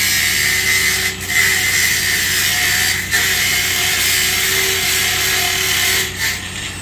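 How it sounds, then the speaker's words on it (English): An angle grinder with a soft start gives a loud, continuous, close-up grinding whine that stays steady, with a few brief dips where the disc pressure eases during work on locomotive piston castings. "I don't think I've ever seen an angle grinder with a soft start on it."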